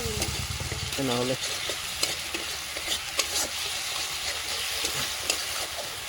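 Turmeric and chili powder frying and being stirred in a pan for an egg curry with cabbage, a continuous close sizzle with scraping stir strokes and a few clinks, a brief voice near the start.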